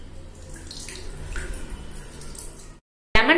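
Water sloshes and squishes in a bucket as half a lemon is squeezed into it by hand, a continuous wet churning that cuts to silence before a brief loud splash.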